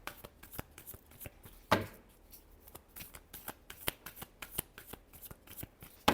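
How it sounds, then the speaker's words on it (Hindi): Tarot cards being shuffled by hand, heard as a quiet series of crisp, irregular riffling and tapping bursts, close up, with no talking over them. "Last shuffle."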